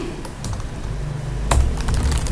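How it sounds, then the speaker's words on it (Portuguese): Quick, irregular clicks of a computer keyboard being typed on during a word-processing lesson, close and steady over a quiet room hum. "Tudo que eu estiver digitando agora"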